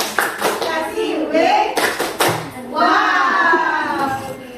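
A classroom of children performing the 'tepuk wow' clapping chant, a few sharp bursts of clapping alongside loud group chanting, close and lively.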